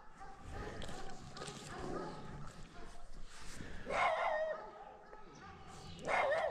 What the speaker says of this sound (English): He's just a sweet dog.